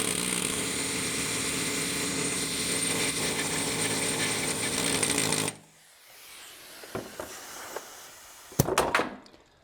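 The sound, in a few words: wrench turning on injector stud, truck engine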